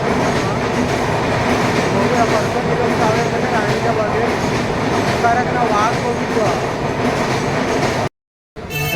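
A Mumbai local train runs steadily with loud continuous rumble and rattling wheels for several seconds, with people talking over the noise before it cuts out abruptly near the end.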